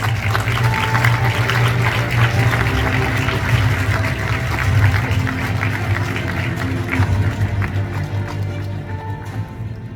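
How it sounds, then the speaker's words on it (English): A large audience at the 2023 ninth-anniversary ceremony of the September 18 World Peace Summit claps in sustained applause, a dense, steady roar of hands that holds at full volume throughout with no pauses. "Let us welcome him with a big round of applause."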